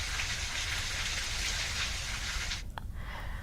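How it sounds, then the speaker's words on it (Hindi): Steady rain falls over a market area in Raipur, a dense continuous hiss of drops on surfaces, fairly close and even throughout, with a brief knock near the end. "बारिश से साप्ताहिक बाजार भी प्रभावित हुआ है।"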